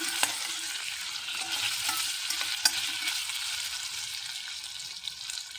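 Okra frying in a pan while being stirred, a steady bright sizzle with soft scraping and stirring movements underneath, close and continuous with no one speaking.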